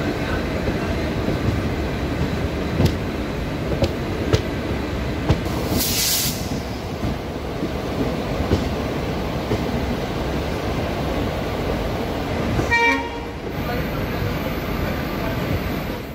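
Passenger train hauled by a WDP4 diesel locomotive waiting at an Indian station platform, a continuous loud rumbling drone with hiss, a brief burst of bright noise midway and a short clanking sound near the end.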